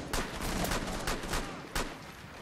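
Gunfire in Rainbow Six Siege on PC, a rapid spray of sharp shots in irregular bursts with a louder crack near the end, set against a constant noisy game background and no speech.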